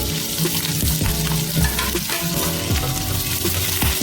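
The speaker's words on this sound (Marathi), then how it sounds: "कांदा आणि मिरची फोडणीला गेलेल्या आता" Chopped onion and green chili crackle loudly in hot oil as a tempering for Konkani monsoon leafy greens. The steady, dense sizzle runs throughout, close by, with faint rhythmic stirring taps and no voices.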